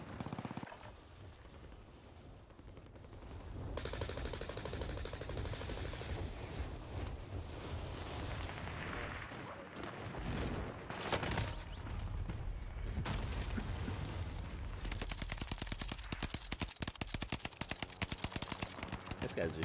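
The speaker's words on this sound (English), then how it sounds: "This guy's just shooting anywhere" Warzone battle royale gunfire crackles through a long stretch of heavy in-game noise, with sustained rapid bursts and sharp shots building louder after a quiet opening and continuing to the end.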